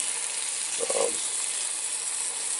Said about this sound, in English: just about everybody's done onions in a frying pan